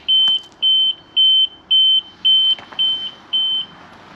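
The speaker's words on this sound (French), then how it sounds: "c'est la direction qui bip" A Zontes GK 350 motorcycle's steering lock warning sounds as seven evenly spaced, clear high-pitched beeps, each about a third of a second long, loud and close with no talk.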